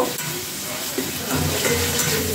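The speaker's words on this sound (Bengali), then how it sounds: "তারপর এখানে আমি চিংড়ি মাছটা অ্যাড করব" Shrimp frying in a pan with a little turmeric and coriander powder, loud continuous sizzling with stirring scrapes, growing a bit louder partway through.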